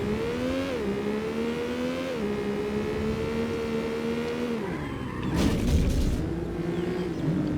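A Porsche in Need for Speed: Porsche 2000 on PlayStation races along, its engine droning steadily and stepping through gear shifts. Later the tyres squeal and skid briefly while the engine keeps running loud and continuous, with no voices.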